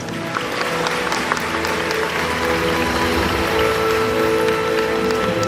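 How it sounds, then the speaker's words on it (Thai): Audience applause at a fan event for the final night of a TV series: a dense, steady wash of clapping that holds at an even level throughout, with no clear speech over it. "ขอเสียงปรบมือให้ ทุกฝ่ายผ่านทางโปรดักชันด้วยครับผม"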